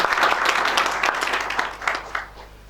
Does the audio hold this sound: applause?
yes